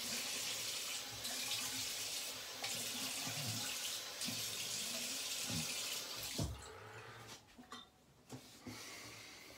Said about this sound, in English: Rinse the alum off.